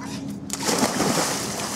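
A Jack Russell terrier drops from a rope swing into water, making one loud splash followed by a brief spray and sloshing. Excited voices talk around it.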